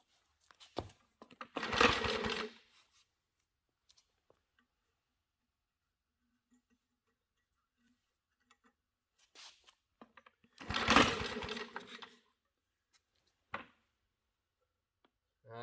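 A 1950s Wards lawn mower engine runs rough, firing in two brief ragged bursts of a second or so, separated by a long quiet gap with faint clicks and rattles.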